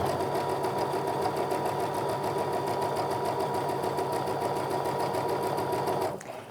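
A sewing machine runs steadily as it stitches a quilt block, the fabric guided along the presser foot edge; a continuous close, even whir with fine rapid needle rhythm, stopping at the very end.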